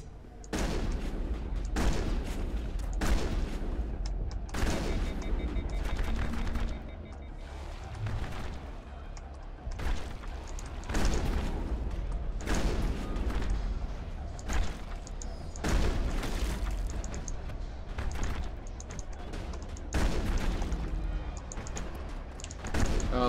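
Repeated shotgun blasts and explosions in the Mass Effect video game, a steady series of loud booming bursts spread across the whole stretch.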